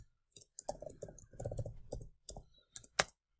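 Typing on a computer keyboard while writing Python code: close, crisp bursts of keystroke clicks in uneven runs, with brief pauses and a sharper final tap, and no voices.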